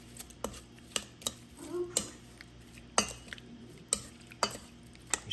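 Shrimp stirred in organic olive oil in a pan: a utensil taps and scrapes the metal pan in repeated sharp clinks about twice a second, over a faint sizzle.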